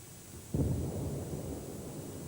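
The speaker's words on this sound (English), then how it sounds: "The thunder of bombs rolled out from Grozny as Russian forces prepared to take the city area by area" A heavy bomb blast during the Russian bombardment of Grozny booms in from a distance, with a sudden low rumbling onset followed by a long, rolling tail of thunder-like reverberation.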